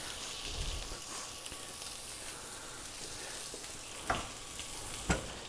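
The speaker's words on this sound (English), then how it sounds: "These are 6-ounce lamb loins. We're going to throw those on the grill here." Six-ounce lamb loins sizzle on the grill of a ZLINE range, a steady broadband hiss of searing meat running throughout, with a couple of brief sharper crackles or taps near the end.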